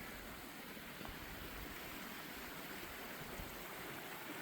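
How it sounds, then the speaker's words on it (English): A small mountain creek on the Wilson River Trail in Oregon flows with a steady, even rushing hiss, soft and continuous with no voices. "I'm not sure what the name of this creek is. There are so many creeks up here"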